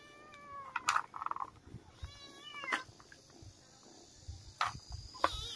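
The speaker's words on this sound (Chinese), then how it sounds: "现在咱们来到平房上喂喂小猫咪啊" Small abandoned white kittens meow repeatedly while being fed on a flat rooftop, several thin, high cries scattered across the scene, fairly close but soft, with light background insect-like chirping.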